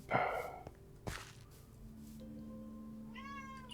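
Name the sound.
domestic cat meowing at the door, wanting out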